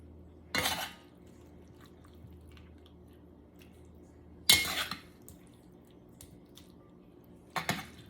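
Cooked green beans and potatoes with bacon are scooped from a pan into a serving bowl, three separate scrapes and clatters of spoon against cookware with moist squishing, each about a second long and spaced by quiet pauses.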